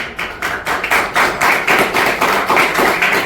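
An audience claps at a talk, a close, dense patter of many hands striking in uneven pulses that keep going without a break, loud and alone with no talking.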